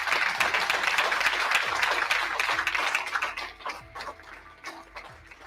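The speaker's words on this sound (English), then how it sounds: "a huge round of applause for what those who do stuff" Indoor audience applause at a group briefing, with sustained clapping that thins and fades toward the end, heard on its own with no voices over it.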